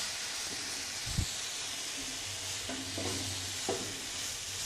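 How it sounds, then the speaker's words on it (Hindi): Vegetables including cabbage and tomato being stirred in a pan over a high flame for pasta, a steady soft sizzle under a few brief scraping stirs and low clunks, fairly quiet and close. "मिक्स कीजिए इन सब चीज़ों को और सिर्फ 1 मिनट तक इसे हाई फ्लेम पर स्टर करना है"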